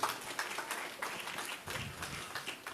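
Scattered clapping from a group of children at a church confirmation ceremony, a brief faint patter of hands with no talking.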